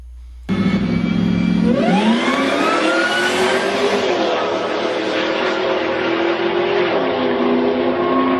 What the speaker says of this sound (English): This video is of a Whipple twin screw supercharged Ford Lightning.